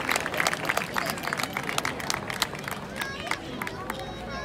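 An audience at the Barceloneta festa major claps in a dense burst of applause after a dance performance with giant figures, with crowd chatter and a voice over the clapping.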